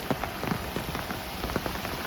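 Steady monsoon rain in the Konkan countryside near a swollen river, a dense close patter of drops striking surfaces with scattered louder splats, alone without voices.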